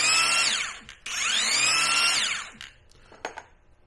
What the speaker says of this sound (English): So that's drilling, hammer drilling.